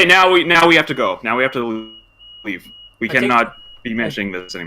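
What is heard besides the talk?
house fire alarm beeping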